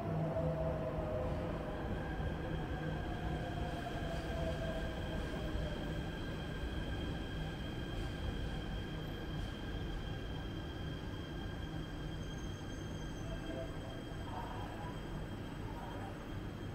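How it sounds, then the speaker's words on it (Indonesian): Jakarta MRT train pulling into an elevated station platform, a continuous rumbling roll with faint high whines and brake squeals holding steady throughout, with quiet background voices. "Ini ya MRT-nya saya datang."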